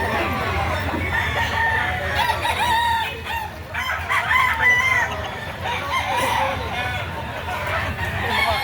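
Roosters crow repeatedly among clucking gamefowl at a Saturday chicken market in Lipa City, Batangas, with a steady crowd murmur and people talking throughout.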